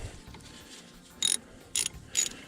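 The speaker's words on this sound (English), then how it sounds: "I'm going to take the ratchet," A ratchet tightens a brake caliper bolt on a 2010 Ford Focus during a brake pad job, giving three short bright bursts of clicking about half a second apart, close and crisp over a quiet background.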